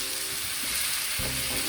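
Chopped garlic and onions sizzling in a hot frying pan, a steady crackling fry that swells slightly louder partway through, with faint stirring.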